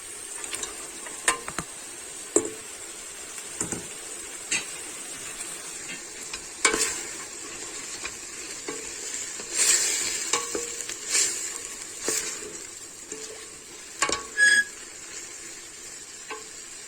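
Peppers sauté with meat in a pan, producing a steady close sizzle under repeated stirring clinks and scrapes of a utensil against the pan at an irregular pace.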